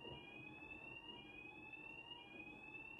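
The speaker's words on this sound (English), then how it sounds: "oh, fire alarms are going off." Fire alarms sound during a scheduled test: a continuous high electronic tone holds steady throughout, faint and distant-seeming, with no speech over it.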